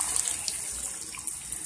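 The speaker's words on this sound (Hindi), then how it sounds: "अब इसमें हम डालेंगे पानी," Water pours into a pan of liver masala curry (kaleji) as a soft, continuous splashing trickle, fairly quiet and with no talk over it.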